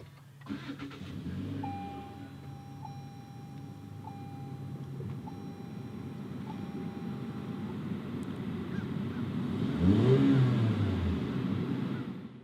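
A 2019 Toyota C-HR XLE started with the push button: a soft chime pulses several times, then the engine cranks and catches with a rising mid-pitched rumble that settles into a smooth idle heard from inside the car.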